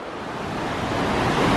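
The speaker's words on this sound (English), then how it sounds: "The mighty river." A mighty river rushing in Colorado's Rocky Mountains: a loud, dense, broadband roar of turbulent water, steady and slowly swelling, close by, with no voices.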